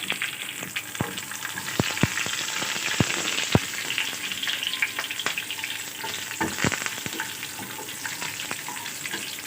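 Green chilies and curry leaves hit hot oil over browned onions, a steady close sizzle and crackle with sharp popping bursts scattered throughout as dal tempering is stirred.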